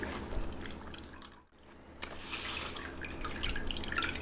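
Superfood chocolate mylk strained through a bag, heard as a soft continuous trickle and drip of liquid, close and fairly quiet, with a brief gap before the flow picks up again.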